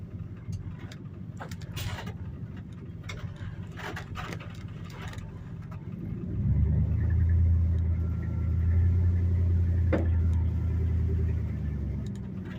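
Low, steady engine rumble of a 1986 Dodge W150 pickup truck driving on a road after its mechanical fuel pump was primed, growing louder and heavier about halfway through, with faint clicks and knocks over the drone.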